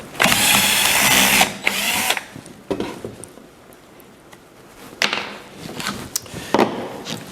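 A power drill runs in loud bursts while backing self-tapping screws out of a dust-collection adapter on an orbital sander. A long whir comes first, then shorter spurts with quiet gaps and small clicks between them.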